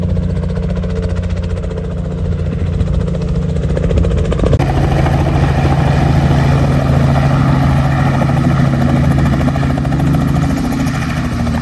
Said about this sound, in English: our helicopter is coming to pick us up from here somewhere